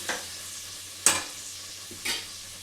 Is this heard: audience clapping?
no